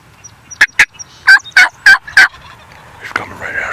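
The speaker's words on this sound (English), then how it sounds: "and boom, bird gobbles." A wild turkey gobbles in answer to a hunter's call in spring woods in Canada, a loud close burst of rapid rattling notes, followed by a fainter call.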